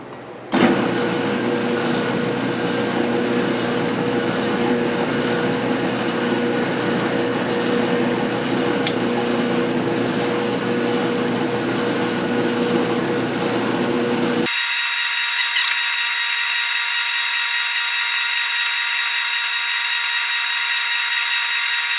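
A milling machine takes a light first cut of about ten thousandths into soft aluminum, a steady close whine and grind that runs for most of the stretch before abruptly dropping to a thinner, quieter hum.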